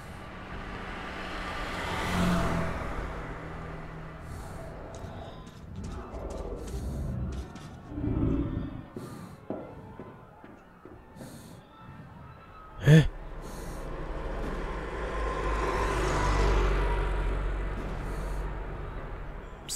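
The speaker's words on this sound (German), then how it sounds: "Das klingt nach einem Motorrad." A motorcycle engine in the video game Metro 2033 Redux swells in and fades out twice, rising from a distance and receding, with quieter ambient noises and brief sounds in between.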